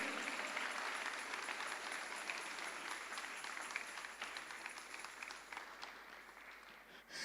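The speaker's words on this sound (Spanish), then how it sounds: "denle un aplauso fuerte al Dios del cielo" A church congregation applauds loudly and steadily at a sermon's call, a dense wash of clapping that holds for several seconds and only slightly thins near the end.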